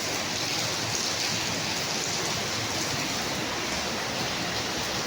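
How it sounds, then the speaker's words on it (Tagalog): Steady, dense downpour of rain, a constant wash of hiss and patter filling the scene with no breaks and no voices. "Malakas yung ulan dito"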